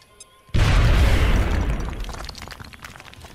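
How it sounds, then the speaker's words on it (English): A grenade blows up in XCOM Long War: after a brief quiet moment comes one loud, sudden boom with crackling debris, which decays gradually over the next few seconds. "Get a grenade on that guy."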